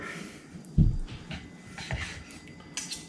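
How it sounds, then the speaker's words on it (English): A knife slicing grilled pork tenderloin from a Weber kettle grill into medallions, with a heavy thunk of the blade hitting the cutting board, then quieter scrapes and cuts close by. "Now I'm just cutting them into these little medallions"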